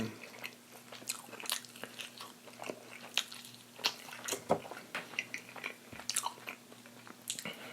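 Close-miked biting and chewing of spicy garlic chicken wings from Buffalo Wild Wings, with wet crunches and squishy chomps repeating steadily for several seconds and no talking.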